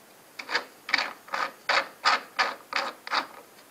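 A machined part for a magnetic steering wheel puller is screwed into place by hand, making eight evenly spaced ratcheting metal rasps, close and moderately loud, with no talk.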